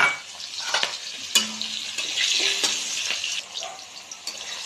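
Sweet potato frying in hot oil in a wok for shukto, with a continuous sizzle, stirring scrapes and a few sharp utensil clinks against the pan, close and moderately loud.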